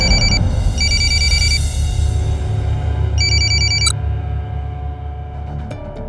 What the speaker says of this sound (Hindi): गुंजन प्लीज मेरा फोन उठाओ, नहीं तो मैं वहां आ जाऊंगा।